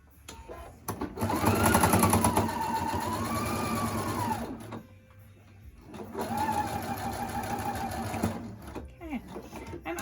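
A sewing machine stitching a fabric mask, running steadily in two long bursts with a humming motor and rapid needle clatter, a short pause between them, close and fairly loud.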